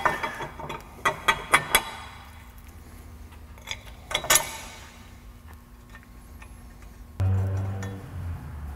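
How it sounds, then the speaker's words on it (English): Metal caliper mounting brackets go onto Ford 8.8 axle tubes with a few sharp clinks and taps in quick succession, a later cluster of knocks, then a low rumbling thud near the end. "I'm going to install the caliper mounting brackets onto the axle tubes"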